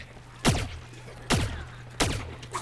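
Semi-automatic Imp gun in Plants vs Zombies Garden Warfare 2 firing three separate sharp shots at roughly even intervals, each a punchy burst with a short decaying tail over a low background hum.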